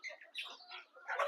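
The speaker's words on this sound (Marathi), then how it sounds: "बघा किती आवडीने आपल्या कोंबड्या खात्यात." Free-range desi hens feeding, with short squawks and clucking calls in quick succession, fairly close and clear with no talk over them.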